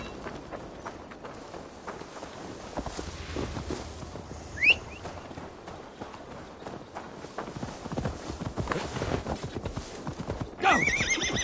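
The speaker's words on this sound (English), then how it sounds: "Now to deliver Magni his horse" A horse in Assassin's Creed Valhalla clip-clops at a walk and then a quicker run, with a clear neigh midway and a louder whinny near the end over faint game ambience.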